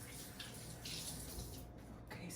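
Hands are washed under a running kitchen tap while cooking, a steady close water splash and hiss with small shifts as the hands move, faint overall, with no talk.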